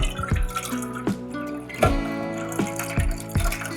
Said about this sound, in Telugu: ఇలా చక్కగా కూల్ వాటర్ పోసుకుంటే మనకి ఎక్కువగా వస్తుంది వెన్నపూస